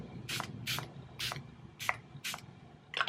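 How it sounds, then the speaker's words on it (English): Six short spritzes of makeup setting spray, evenly spaced in quick succession, close and fairly quiet. "We're gonna go in with a little bit of setting spray just to moisten it back"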